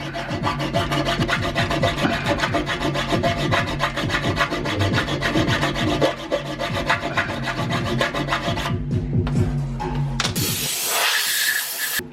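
A hand saw cuts through a rubber-and-metal subframe bushing on a Lexus IS300, with fast, rhythmic rasping strokes close up for most of the clip before the sawing stops and a brief hiss follows.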